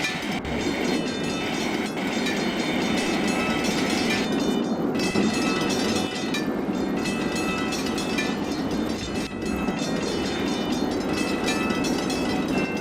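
Train rolling into a station in the Trainz railway simulator, a steady loud rumble of wheels and carriages continuing throughout with brief dips, no talk over it.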